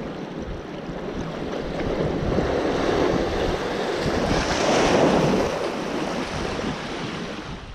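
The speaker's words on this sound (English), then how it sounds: "the tide's really whipping in now" Ocean surf from an incoming tide washes onto the shore during a bass fishing session, a steady broadband wash swelling louder midway with wind noise buffeting the microphone.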